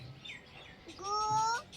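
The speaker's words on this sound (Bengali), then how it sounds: "পাখি ডাকে কোথায় আবার আজকে" A bird gives one short, clear whistled call outdoors, rising and falling for about half a second, moderately close, after a quiet stretch with faint chirps.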